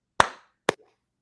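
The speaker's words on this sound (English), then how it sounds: "clap in real quick so I can just edit out a smooth transition for this" Two sharp hand claps about half a second apart, close and crisp, each with a short decay, in a quiet room before a gaming podcast segment.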